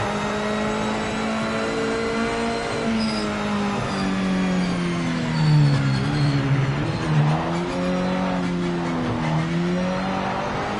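Mazda MX-5 race car in a racing video game, its engine droning steadily with pitch rising and dipping as it brakes and accelerates, a tire squeal now and then, loud and continuous throughout.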